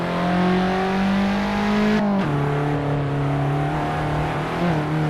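A race car engine in Assetto Corsa drones loudly and steadily on the Goodwood Festival of Speed hill climb, dropping pitch sharply at a gear shift before settling and climbing again.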